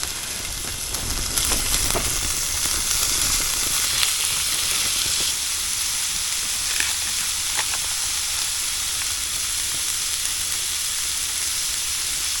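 Bacon frying in a pan at a high-desert winter camp in central Oregon, a steady broadband sizzle and hiss with small pops, loud and close throughout without talk.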